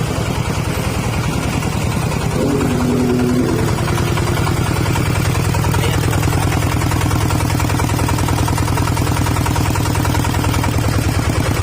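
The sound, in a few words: engine running before shutdown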